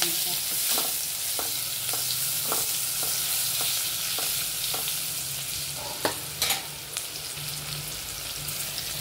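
Tomatoes sautéing in a pan for veg dalcha give a steady sizzle, with regular scrapes and clinks of a spoon stirring through them, a few sharper knocks near the end.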